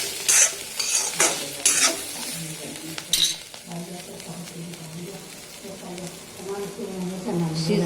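Bitter gourd bhaji stir-fried in a pan after steaming under a plate lid, with loud bursts of spatula scraping early on over a steady sizzle that settles into softer frying; someone speaks over it.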